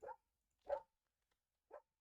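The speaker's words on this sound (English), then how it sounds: "I apologize about the dog" A dog barks in the background, three short separate barks spaced across about two seconds with silence between them, fairly faint and alone with no talking.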